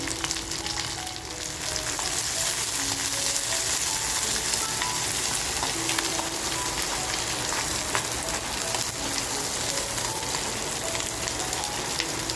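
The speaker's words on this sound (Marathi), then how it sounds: "लगेचच बघा कांदा टाकून घेते" Onion frying in a pan for bombil manchurian gives a loud, dense, continuous sizzle that holds steady and close throughout, with faint stirring scrapes.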